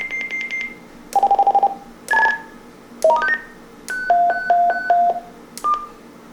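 A run of DTMF keypad tones from an AnyTone AT-6666PRO CB radio, clear, loud bursts at varying pitches with short pauses between, like a phone number being dialed.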